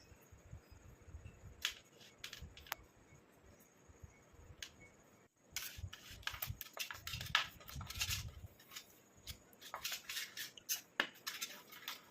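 A spoon stirs a homemade hair dye paste in a bowl, making faint, irregular clinks and scrapes that grow busier and louder partway through.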